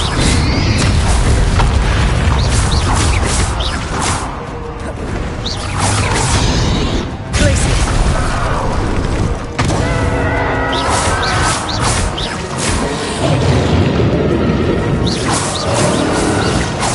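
Bombarda explosion spells fire off amid other combat spells in the video game Hogwarts Legacy, a steady barrage of loud booms, crashes and whooshes layered over one another throughout.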